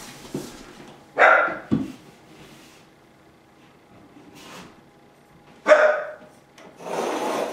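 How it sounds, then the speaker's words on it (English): A dog gives a few scattered barks and short huffs indoors in a woodworking space where a desk is being built, separated by quiet gaps. "And that's Molly, Sebby's dog"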